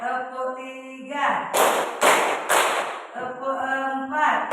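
A group claps in a rhythmic three-beat pattern in a classroom, with three loud sharp bursts of clapping between stretches of a sung or chanted voice.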